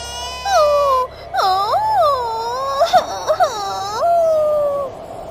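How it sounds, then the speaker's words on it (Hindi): Eerie cartoon sound effect of wind and small children crying, with long wavering wails that rise and fall repeatedly, loud and close, several cries overlapping with a few brief sobbing catches in the middle. "फाटक पर अचानक से हवाएं चलने लगती हैं, जिसके बाद वहाँ पर छोटे छोटे बच्चों की रोने की आवाज आने लगती है।"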